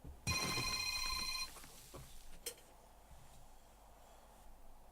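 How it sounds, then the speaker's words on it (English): A phone rings with a bright, repeating electronic trill for about a second, then stops, followed by a sharp click and quiet room tone with faint movement. "Now my phone's ringing there"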